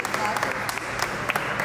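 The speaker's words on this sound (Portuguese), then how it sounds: "Palmas à Valentim!" A brief burst of audience applause for Valentim, dense clapping from a nearby crowd with a voice speaking over it.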